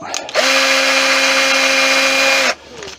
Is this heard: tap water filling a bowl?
no